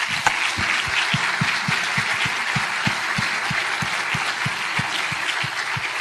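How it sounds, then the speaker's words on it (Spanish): A church congregation claps in praise during a Spanish-language service, a dense, loud, sustained wash of applause over a steady rhythmic beat of low thumps, with no voices over it. "¿Le puedes dar un aplauso al Señor?"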